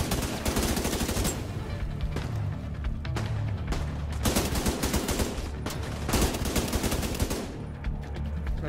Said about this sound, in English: Oh, mini gun!